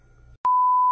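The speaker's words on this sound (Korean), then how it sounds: "지금 알람이 울리고 있어요." An egg cooker holding two eggs with vegetables finishes and sounds its alarm, a loud, sustained electronic beep that cuts in abruptly after a faint low hum and holds steady to the end.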